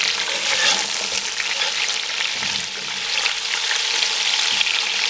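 Chicken pieces for Kabuli pulao fry in a hot pan with a loud, steady sizzle that crackles throughout, stirring in the mix and no voices.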